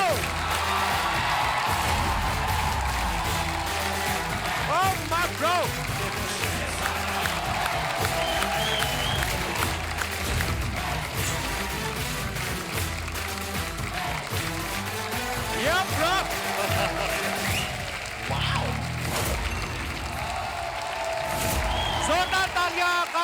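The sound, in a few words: audience applause and cheering welcoming Kartik Aaryan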